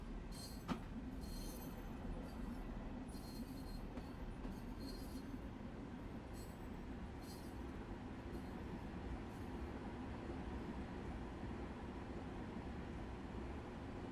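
LIRR M3 commuter train rolling on the rails, a faint steady rumble with light clicking and hissing throughout, no talking.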